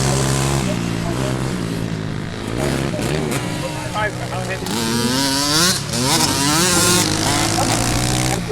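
Pit bike engines at a memorial pit bike race, a loud continuous buzzing whine that rises and falls in pitch as riders rev and shift, with a person talking over it.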